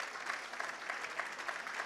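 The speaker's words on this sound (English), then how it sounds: "You all deserve a round of applause for yourselves" An audience at the Galway City Mayor's Awards 2023 applauds with a steady, distant patter of many hands, faint and continuous throughout.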